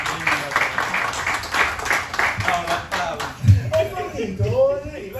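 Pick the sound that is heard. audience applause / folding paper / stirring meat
audience applause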